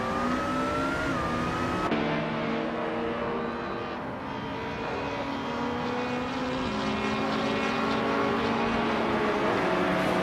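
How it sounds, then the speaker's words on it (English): Race car engines in a racing video game, 2010 Peugeot RCZ machines, drone steadily and loudly throughout, layered engine tones holding and shifting pitch as cars run together, with no speech. "Kicking Cactus is driving a 2010 Peugeot R CZ race car"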